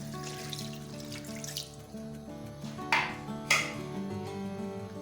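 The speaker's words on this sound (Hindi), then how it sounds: "अब डालेंगे हम इसमें पानी।" Water splashes and runs steadily into a metal pot, with a couple of louder sloshes and faint clinks of cookware.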